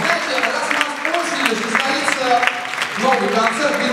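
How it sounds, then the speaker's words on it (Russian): Applause at a brass band concert, continuous clapping from the hall audience with voices talking over it throughout. "аплодисменты"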